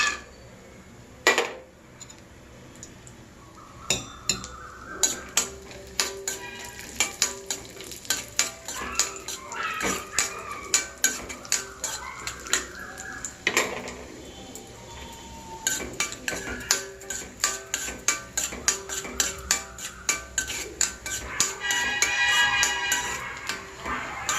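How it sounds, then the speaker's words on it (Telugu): Cashews and almonds fry in a pan for wheat-flour halwa as a spoon scrapes and clinks against the metal in quick, busy bursts over a soft sizzle, close up with no talk. "జీడిపప్పు బాదం పప్పు వేయించుకుందాం"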